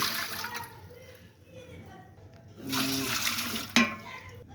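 Water is poured onto rice for cooking, a splashing tap-like gush that comes in bursts alongside a person talking, with a sharp clink near the end.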